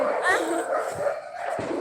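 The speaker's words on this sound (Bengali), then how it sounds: "কুত্তা গেঞ্জাম আছে" Dogs bark and yelp in short bursts during a night of children releasing sky lanterns, sounding fairly close amid people talking.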